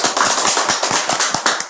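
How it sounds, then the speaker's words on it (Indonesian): Loud, close applause for a studio crew at an Indonesian talk show, with rapid, steady hand claps from a small group and no speech. "boleh tepuk tangannya dulu."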